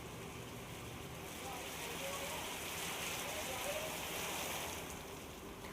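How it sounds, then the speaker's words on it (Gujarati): Heavy monsoon rain falls steadily in Dahod, Gujarat, a soft, even hiss of drops on the ground that holds at a fairly faint level throughout, with no voices. "વરસાદ પડતા રસ્તા પરથી પાણી વહેતા થયા છે"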